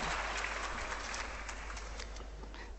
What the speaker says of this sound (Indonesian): Beri tepuk tangan double kalau gitu, Bu